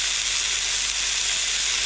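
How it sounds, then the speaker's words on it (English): Pak choy stir-frying in a hot pan gives a loud, steady, close sizzle with a dense, even hiss that runs unbroken throughout. "I'll just fry these off a little bit longer"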